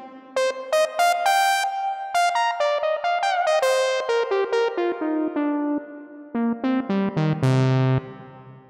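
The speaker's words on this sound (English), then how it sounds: "I am developing new reverb algorithms for RAPID" Parawave RAPID plugin demonstrating its Nuclear reverb algorithm, the smallest of its reverbs, on a bright plucked synth melody of quick stepping notes. The notes carry a short, tight tail and sound alone with no talking.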